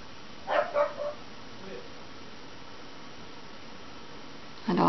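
Dog barking a few times in quick succession indoors, moderately close, followed by a pause and another bark at the end, over a steady background hiss.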